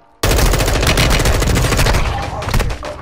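Loud, sustained burst of rapid automatic gunfire from a weapon in a video game, starting abruptly after a brief quiet moment and continuing as dense overlapping shots for about three seconds.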